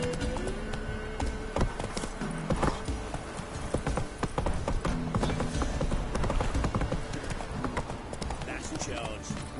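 Roach the horse galloping in The Witcher 3: rapid, steady hoofbeats close by throughout, with brief whinnies and voices talking over them.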